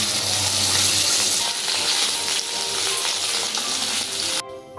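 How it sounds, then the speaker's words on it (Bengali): Fish coated in dried chilli powder frying hard in hot oil in a pan, a loud steady sizzle and crackle running throughout, close up, with no talk, cutting off abruptly near the end. "মাছগুলো দু পিঠে লাল লাল করে আর কড়া করে ভেজে নিচ্ছি।"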